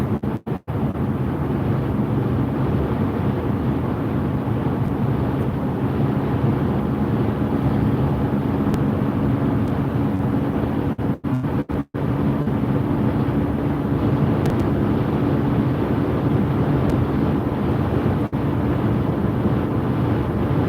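A BMW cruising along the interstate, with steady broadband road and wind roar filling the cabin throughout and a few brief dropouts near the middle.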